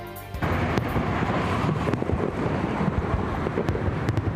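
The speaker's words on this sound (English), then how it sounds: "this short fireworks display over the Hudson River celebrated NYC Pride 2020" A short fireworks display over the Hudson River in New York City for Pride 2020, heard as continuous rumbling booms and crackling bursts from a distance under a dense, noisy wash, with sharp louder reports standing out.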